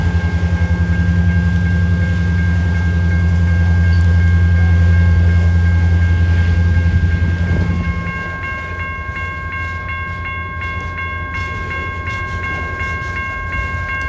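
A loaded Louisville Gas and Electric coal train pulls off the Warrior Coal Mine lead, its diesel engines droning loud and steady before easing back, with sustained tonal whines and rail noise continuing throughout, no voices.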